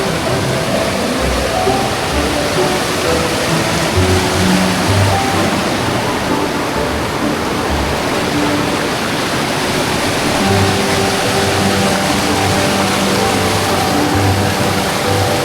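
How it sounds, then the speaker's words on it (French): A small waterfall on a river pours in a steady, loud, close rush of splashing water that holds even and unbroken throughout. "tu tombes sur une petite cascade"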